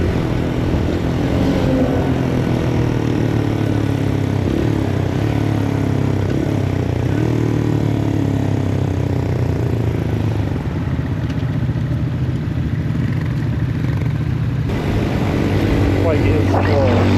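A Papio SS mini-moto motorcycle at full throttle, its small engine droning loud and close in a steady buzzing roar with wind rush throughout, with a voice talking over it.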